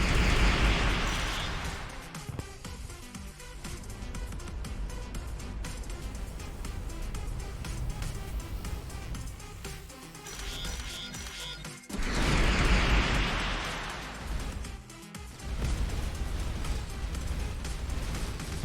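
Rocket explosions in the space game Starcom, loud booming bursts that flare near the start and again midway, over a constant layer of game noise and music.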